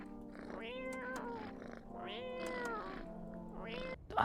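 A cat in a video game gives a string of drawn-out, wavering meows, three or four close, clear calls with short gaps between them and a faint purr-like tone underneath.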